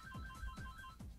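A phone ringtone chirps in quick repeating bursts, three short rings in a row at low volume indoors, with no talk over it.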